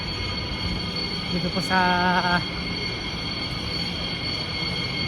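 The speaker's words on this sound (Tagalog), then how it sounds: "ito po yung train namin sa sakyan." A train at a station in France, heard as a steady rumble with a brief loud tonal squeal or horn-like burst partway through, under a faint voice.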